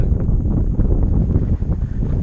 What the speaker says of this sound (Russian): Вот здесь холодный ветер.